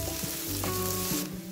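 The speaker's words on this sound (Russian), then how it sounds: "И в этом же масле я обжариваю лук." Onions fry in hot oil in a pan taken off the heat, a steady close sizzle with a few brief stirring scrapes and no talk.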